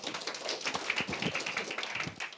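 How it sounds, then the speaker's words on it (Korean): An audience at a forum presentation claps steadily, a dense spread of hand claps at moderate distance with no talking over it. "박수로 맞이해 주세요."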